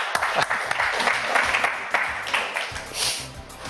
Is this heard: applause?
yes